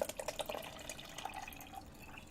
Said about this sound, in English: I poured a little bit too much water, so I'm going to try to pour some back.